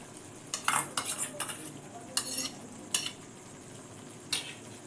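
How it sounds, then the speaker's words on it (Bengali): Spices being stirred with beaten sour yogurt in a pan over low gas, the spoon scraping and clinking against the pan in a string of short bursts, close and fairly loud, with a faint sizzle underneath and no talking. "টক দইটা দিয়ে একটু কষে নেব"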